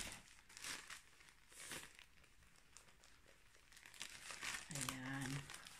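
Plastic packaging around a new pajama set crinkles and rustles in close, quiet bursts as it is opened, with a brief voice sound near the end.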